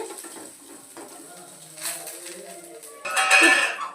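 Water splashes and trickles into a dish of cooked rice for a few seconds, brief and close, with a louder pour toward the end.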